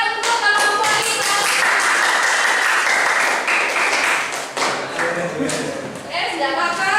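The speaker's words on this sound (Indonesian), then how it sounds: "Kita berikan tepuk tangan, kita berikan tepuk tangan untuk kemampuan kita." A classroom of students claps together in a loud, steady burst of applause that lasts several seconds, with voices calling out over the clapping.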